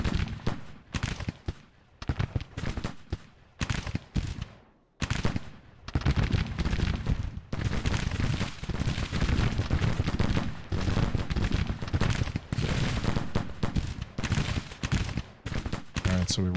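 Artillery and massed gunfire in the Civil War strategy game Grand Tactician, heavy crackling volleys and booming shots, sparse bursts at first and then a dense, continuous roar of fire.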